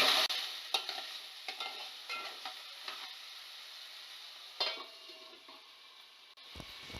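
Salted potato pieces cooking under a lid in a pan for kanda poha give a soft, steady sizzle with scattered light scraping taps, fairly quiet and close, with no talking.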